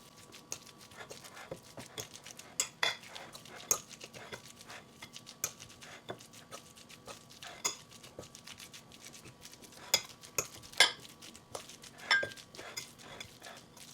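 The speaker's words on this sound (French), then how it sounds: "On va mélanger tout ça." A vegetarian burger mixture being mixed in a bowl, with soft irregular patter and clinks of a utensil against the bowl, quiet and close.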